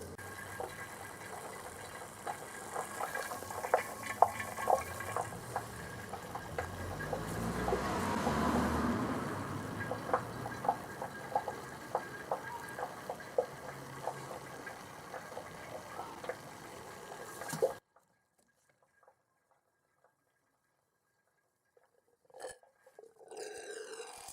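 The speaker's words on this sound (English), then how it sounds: "I'm not going to drain it completely, just drain the expansion tank and fill it back up with the fresh fluid" Coolant drains from the expansion tank of a VW T4 with a 1.9D 1X engine, a steady trickling, gurgling flow with small ticks and clatter, running continuously for a long stretch before stopping abruptly into near silence, then faint handling noises.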